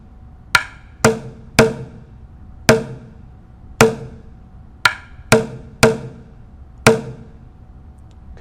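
Hand drum struck in a steady pattern on a deck, mixing center and edge hits: nine sharp, close strikes with ringing decay, unevenly spaced, no talk.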